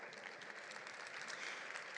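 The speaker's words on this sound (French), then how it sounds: "on peut les applaudir chaleureusement" Audience applause at a French conference on corporate engagement, a dense, steady clapping that fills the whole two seconds at moderate loudness without speech over it.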